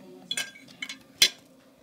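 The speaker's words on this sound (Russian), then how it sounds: "И мешаем." A spoon stirs a jelly mixture in a pot, giving a few sharp clinks and scrapes against the side spaced about half a second apart, close by with no talking.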